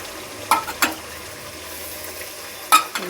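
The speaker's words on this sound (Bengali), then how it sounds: "একটু ভাজা মশলা চিনি একসাথে ভেজে দিলাম," Roasted spices and sugar stirred together in a hot pan, with a soft steady sizzle under a few sharp scrapes and clinks of a utensil against the metal pan.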